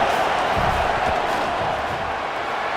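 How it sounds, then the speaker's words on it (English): Stadium crowd roars steadily in a modded College Football 27 game, LSU against Auburn, trying to rattle the kicker before a 48-yard field goal; a dense, loud wash of cheering fills the whole moment with no clear talk over it. "This crowd trying to do its part to get inside the kicker's head."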